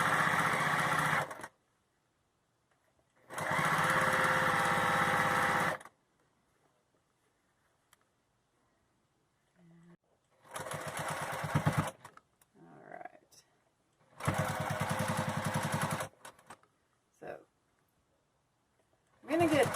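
A sewing machine stitching a cloth mask runs in several loud, close bursts of a few seconds each, separated by quiet gaps with brief handling noises between.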